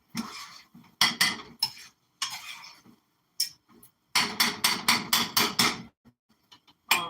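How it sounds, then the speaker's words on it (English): A spoon scrapes and knocks against a pot while a one-pot meal is stirred from the bottom, giving a run of close, sharp clinks in irregular clusters separated by short pauses. "Stir really good from the bottom, not just the top."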